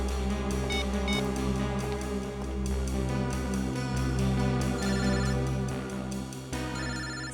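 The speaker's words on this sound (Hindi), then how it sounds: "सर दिव्या का फोन तो यही कहीं बज रहा है।" A mobile phone ringtone plays nearby, repeating steadily and loud throughout with a layered melodic pattern, over a low continuous hum and no talk.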